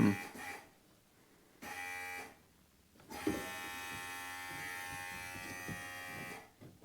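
An electric brake vacuum pump, fitted in a conversion without a vacuum reservoir, buzzes and whines as it cycles: two short bursts, then a longer steady run that cuts off near the end, close and fairly loud.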